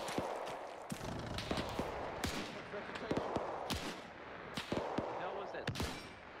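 Several sharp gunshots in ARMA 3's World War II setting during a convoy fight. They crack irregularly at mixed distances, some close and punchy and others farther off, over a steady battlefield din.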